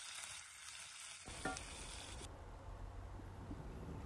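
Cooked meat stirred into a tomato and soumbala sauce in a pan, a soft sizzle with a brief scrape of stirring, then a quiet steady simmering hiss.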